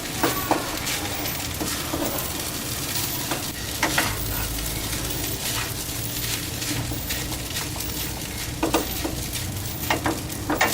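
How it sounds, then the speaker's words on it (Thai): Shrimp fried rice with spring onions stir-fried in a pan, a steady close sizzle with repeated clacking scrapes of the spatula against the pan, no talk. "เดี๋ยวของผมเนี่ยจะใส่ ต้นหอมลงไปนะครับจะผัดใช้เวลาอีกสักแป๊บหนึ่งให้เม็ดข้าวเขาล้วนนิดนึงนะฮะ"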